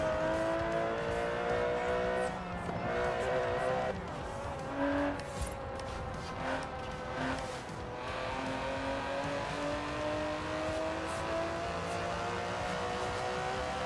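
Twin-turbo 5.2-litre V12 of an Aston Martin DB11 in Forza Horizon 4, revving and accelerating steadily with rising and falling engine tones and brief tire noise, loud and continuous throughout.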